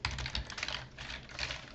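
Rapid typing on a computer keyboard, a steady run of close, crisp key clicks with no pauses or talk.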